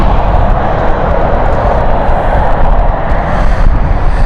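Embraer Phenom 300 business jet operated by NetJets Europe at London City airport, a loud steady broadband jet roar filling the whole stretch without any pause.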